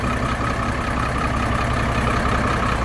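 A used 5-ton Korean garbage dump truck engine runs at a steady, even idle, a continuous low rumble heard up close for a few seconds, with no talking.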